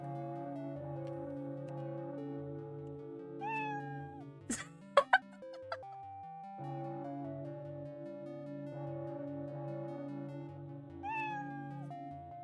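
A short cat meow sound effect plays as the player dies in a beginner game project, sitting over steady electronic background music, with a few sharp clicks and another meow near the end.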